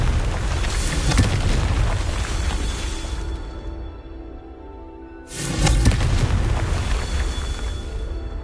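A Confringo fire spell in Hogwarts Legacy detonates as two loud, rumbling blasts, the first rolling for several seconds and dying to a low roar before a second explosion erupts and sustains.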